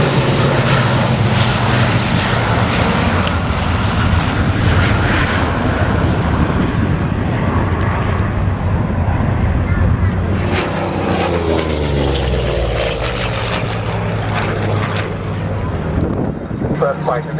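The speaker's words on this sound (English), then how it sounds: "When Stephen made his first flight in the aircraft," A propeller warplane roars loudly overhead at the Duxford air show, its engine drone building and then sweeping past with a falling pitch, while a crowd murmurs and a voice carries faintly underneath.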